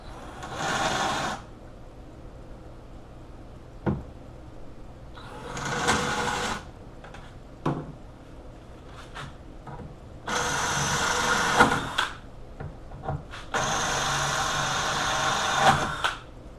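Power drill boring holes for Shadow taillights, heard in several separate bursts of whirring of a second or two each, fairly loud and close, with short quiet pauses between them.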